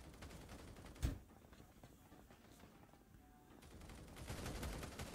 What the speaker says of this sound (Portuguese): Tá dando muito tiro